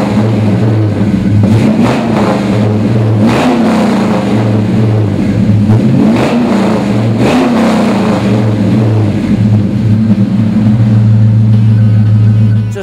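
A 1969 Chevrolet Camaro SS V8 engine fires up and is revved repeatedly, with loud, close rises and falls over a deep, lumpy idle.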